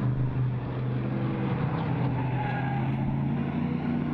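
A race car roars past on the track heading into turn one, a continuous loud engine drone that holds steady in pitch for several seconds without talk.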